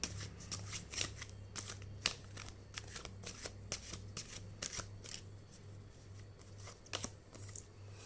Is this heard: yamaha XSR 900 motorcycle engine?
no